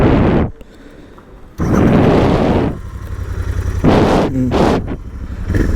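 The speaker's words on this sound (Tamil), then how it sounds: "இன்ஜின் ஸ்டார்ட் பண்ணு, த்ராட்டில் கொடு." Royal Enfield GT650 motorcycle with an aftermarket AEW exhaust gives loud, sharp throttle blips, several bursts of revving broken by quieter idle gaps, close to the microphone.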